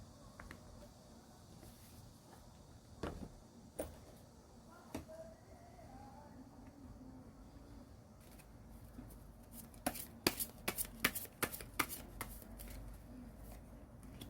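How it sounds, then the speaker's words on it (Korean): Tarot playing cards being shuffled, soft scattered riffles and taps in a quiet room, growing into a burst of sharper card snaps near the end, with no talk. "카드 섞을게요."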